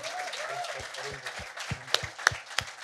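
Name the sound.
audience applause at a song launch event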